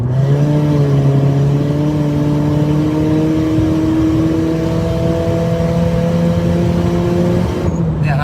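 Turbocharged Toyota Altis engine revving steadily under acceleration, a loud, close drone with rising harmonic whine held for several seconds before easing off near the end.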